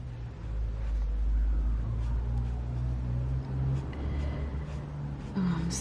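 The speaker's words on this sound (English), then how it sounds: "Sorry about the traffic noise." Road traffic from a busy road outside drones steadily, with low engine hum from passing vehicles rising and falling and a faint tonal whine near the end, heard from indoors.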